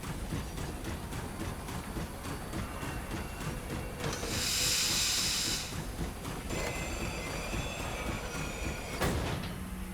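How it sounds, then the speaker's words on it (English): A train rolls along steadily in The Long Dark, a continuous rumbling clatter with a loud steam hiss bursting out midway for about a second, then a sharper metallic hit near the end. "Train ride was unexpected."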